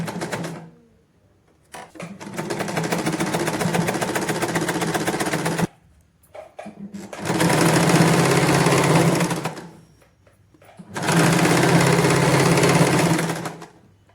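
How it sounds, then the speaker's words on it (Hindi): A sewing machine stitches palazzo fabric in three long, steady runs of fast, even mechanical whirring, loud and close, separated by short pauses. "एकदम पास में से ही हमने सिलाई लगानी है"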